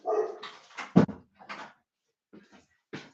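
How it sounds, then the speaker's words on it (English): A big dog barks indoors in a handful of short, sharp bursts separated by quiet gaps, fairly close and fading to softer yips toward the end. "My big beast of a dog is barking."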